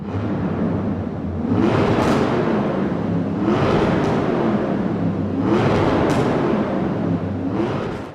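A 2020 Chevrolet Corvette C8 in Forza Horizon 4, tuned to a 1400 hp racing V8, revs hard in repeated climbing sweeps, each rising pitch cycling back down, loud and steady with no talk.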